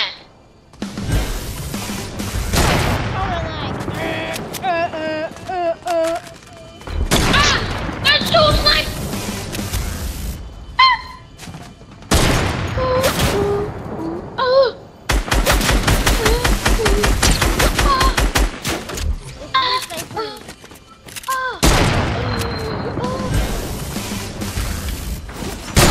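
Video game gunfire arrives in bursts of rapid rifle shots and single cracks, separated by short gaps, while people talk over the action throughout.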